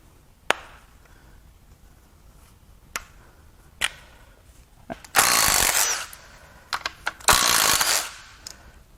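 Tools work the timing cover bolts on a Mercedes OM642 3.0L V6 turbodiesel during a teardown: scattered sharp metallic clicks, then two loud sustained bursts of a power ratchet or impact tool spinning out bolts, close by.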